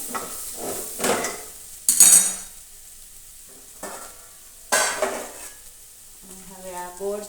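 A spoon stirs bitter gourd curry with garlic chutney in a frying pan, making several scraping, clinking strokes against the metal between quieter pauses while the food sizzles faintly.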